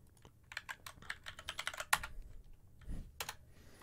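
Typing on a computer keyboard while editing in DaVinci Resolve 14, a close run of quick key clicks with one sharper tap, then a pause and a few final strokes.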